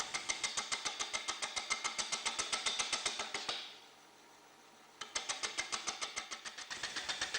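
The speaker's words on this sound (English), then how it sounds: "Start the lathe at a fairly modest speed and turn the first side." A wood lathe turns a three-sided bowl blank off-centre, so the tool strikes in a fast regular chatter of sharp ticks. The ticking stops for about a second and a half, then resumes, moderately close.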